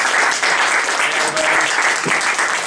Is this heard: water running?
no